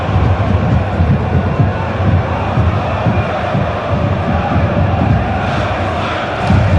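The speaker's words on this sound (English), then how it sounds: "You don't know what you're doing, are the cries from the away end here." Away-end football supporters at a Sheffield United versus Leicester City Championship match shout at their manager, a loud, dense roar of massed voices filling the stadium with rhythmic swells of chanting.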